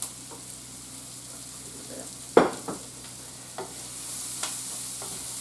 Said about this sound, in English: So, I'm going to have to deglaze again.